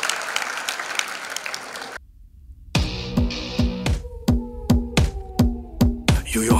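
Applause rises from a television talent-show audience for a young girl performer at a grand finale, a dense clatter of clapping before a brief drop into near silence, then steady rhythmic claps alongside a pulsing music beat.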